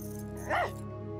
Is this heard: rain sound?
no